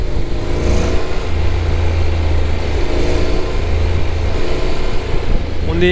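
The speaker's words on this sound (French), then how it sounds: "Alors le bruit il est différent évidemment que le T-Max, ça fait un petit peu plus moto." A 2025 Honda Forza 750 scooter's engine runs at a steady, fairly loud drone, a deep motorcycle-like hum close by and continuous throughout, with a slight rise at the very end.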